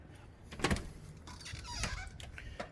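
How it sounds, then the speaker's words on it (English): An old door in an 1880s mansard house creaks as it swings open, with a few faint, drawn-out squeaks and soft knocks, nearby and quiet, with no talking. "We're going to actually use this door"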